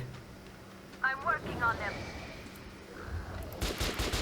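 Gunfire rings out in the shooter game Metro: Last Light Redux, with sharp shot bursts over a low rumble while a voice talks alongside the shooting.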